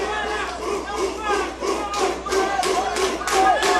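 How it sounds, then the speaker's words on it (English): A partisan crowd at a Shooto Brazil MMA fight cheers and shouts in repeated surging bursts, loud and close, with rhythmic swells of noise rising and falling. "We hear the pro Nova União crowd here cheering their boy on from top position"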